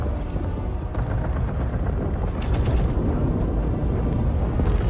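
A size 20 torpedo detonates in Star Citizen as a loud, sustained explosive roar with dense crackling bursts, rising in intensity midway and rumbling throughout.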